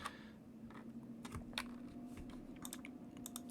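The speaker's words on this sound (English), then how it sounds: "I type in the teams" Fingers type quickly on a computer keyboard, producing irregular bursts of soft, clicky keystrokes, fairly close and quiet, with a faint steady hum underneath.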